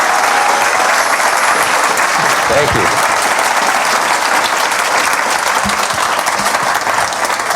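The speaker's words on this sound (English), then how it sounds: "Round of applause for Vince." Audience applause for a speaker named Vince fills the room steadily from start to finish, loud and dense, while a voice briefly speaks over it.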